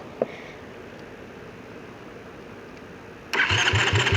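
A quad ATV engine cranks and catches after internal engine repairs, then settles into a loud, close, rough idle with a pulsing beat after a quiet stretch.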